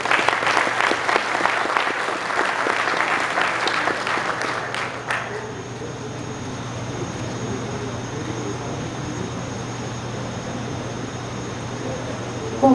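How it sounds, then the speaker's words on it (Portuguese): Applause for honorees at a military ceremony marking the centenary of the 1924 Revolution, held by the Brigada Militar in Rio Grande do Sul: sustained crowd clapping for about five seconds, then cutting off into a quiet hall murmur. "Palmas aos homenageados."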